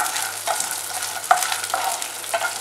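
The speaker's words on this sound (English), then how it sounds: "I'm gonna saute this for a few minutes" Garlic, dry red chilies and peanuts sautéing in a pan for tomato peanut chutney, a steady close sizzle with spatula stirring strokes scraping the pan every half second or so, no talk.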